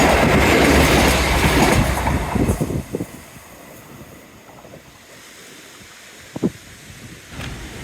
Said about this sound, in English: Yay, finally got a train.